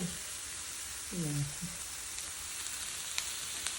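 Steady sizzling of pork on a Thai tabletop grill (moo kratha) fills the clip, with a brief murmur of voices early on and a few faint pops.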